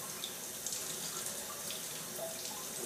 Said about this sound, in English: As you can see, I'm barely pouring it.